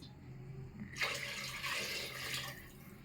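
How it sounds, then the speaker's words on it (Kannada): Water runs and splashes steadily for a couple of seconds, a broad rushing pour into a vessel starting abruptly after a quiet moment. "ಒಂದು ಮೂರು ಚಮ್ ನೀರು ಹಾಕ್ತೀನಿ"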